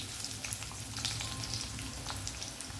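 Sliced onions dropped into hot cooking oil for a pasta dish, giving a steady loud sizzle and crackle throughout, close and with no voices.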